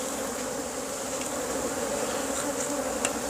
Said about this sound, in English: there's all these bees in the way